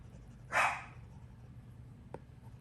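A dog gives one loud bark close by, followed by a faint short sound a moment later against quiet room noise. No one speaks.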